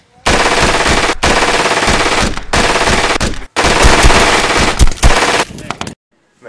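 Machine gun fire in a shooting game, long loud continuous bursts broken by brief pauses, with one short gap before a final stretch of rapid fire that stops abruptly.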